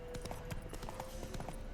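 Horse hooves clip-clop at a steady walking rhythm along a road in The Witcher 3, the regular footfalls fairly faint beneath a continuous background bed of game ambience.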